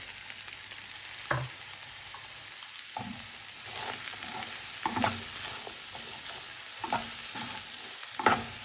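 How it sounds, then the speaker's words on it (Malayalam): Medium-sized onions sauté in coconut oil for a Kerala shrimp roast, a steady sizzle broken by several sharp scrapes and clinks of a spatula stirring the pan, fairly close, with no talk. "ഉള്ളി വഴറ്റാനേ നമുക്ക് ഉള്ളി ഇടാം."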